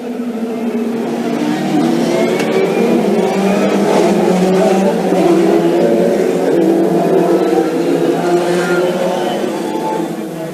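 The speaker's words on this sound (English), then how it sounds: "I'll let these cars just pull away." Mono F3 single-seater race cars at Brands Hatch pulling away together, a loud continuous engine drone with rising revs and overlapping gear changes that fills the whole stretch.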